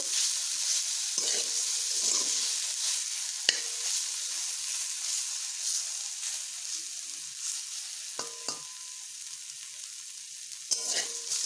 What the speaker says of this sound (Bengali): এবার আর একটুক্ষণ ভেজে নেব